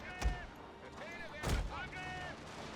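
Howitzer artillery and gunfire in a Prussian-era strategy video game: two deep booming shots about a second apart sound at a distance, with faint voices and tonal game sounds behind them.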